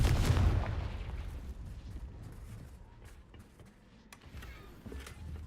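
A Confringo blasting spell goes off in the Hogwarts Legacy video game as one loud, close boom that rumbles heavily at the start, then fades into a softer crackling tail with faint debris ticks.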